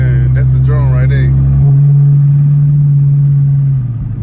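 A catless car exhaust drones loudly and steadily while the car accelerates through traffic. Someone talks briefly over the engine at the start, then the drone carries on alone at close range before easing off.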